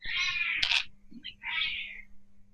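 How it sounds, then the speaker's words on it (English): A cat gives two drawn-out, high meows close by, separated by a short pause, with a faint low hum underneath. "I hear your cat."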